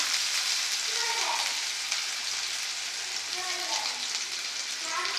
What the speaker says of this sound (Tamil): எண்ணெயிலேயே வெங்காயம் வேகட்டும்